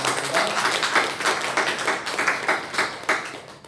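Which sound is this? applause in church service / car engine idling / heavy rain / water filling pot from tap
applause in church service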